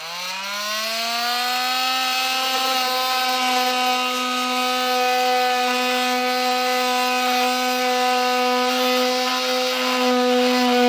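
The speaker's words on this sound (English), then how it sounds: "I like to use a multi-tool, but you can use a Dremel tool, utility knife, pair of snips, whatever you got. And we'll get this trimmed out here." Oscillating multi-tool cutting plastic behind the rear bumper of a 2018 Toyota RAV4 during a trailer hitch install, a loud steady high buzzing whine held for about eleven seconds with no talk.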